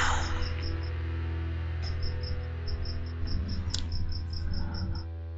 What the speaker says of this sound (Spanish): Escucha un grillo de fondo